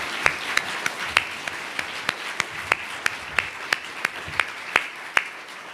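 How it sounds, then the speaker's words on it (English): Scattered, uneven clapping from a small group, with irregular claps over a quiet murmuring background, continuing steadily throughout. "Please join me in giving the round of applause."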